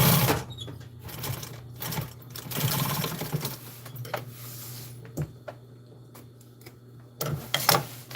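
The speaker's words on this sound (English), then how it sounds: "Come right in here, just stitch it one more time, just to make it a little bit stronger." A sewing machine runs in steady bursts, restitching the hem on custom-made truck storage, a low mechanical hum with rapid needle ticking that stops and starts close by, with a few sharp clicks and knocks near the end.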